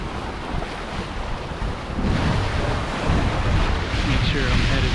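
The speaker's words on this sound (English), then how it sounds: "So already getting some pretty good wind and cruising right along." Strong wind buffeting the microphone on a sailboat cruising at sea off the route to North Carolina, a steady loud roar with rushing water that grows stronger partway through.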